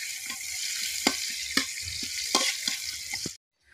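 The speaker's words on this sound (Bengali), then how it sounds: "এবার পরিমাণ মতো সয়াবিন তেল দিয়ে দিব আর দিয়ে দেবো পেঁয়াজ কুচি, রসুন কুচি।" Chopped onion and garlic fry in soybean oil in a wok, a close steady sizzle broken by several sharp scraping stirs before the sound cuts off abruptly.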